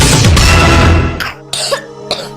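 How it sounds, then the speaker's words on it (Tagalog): A child coughing loudly and close, one rough drawn-out cough followed by several short, sharp coughs in quick succession, with no talk. "Ubo ng anak?"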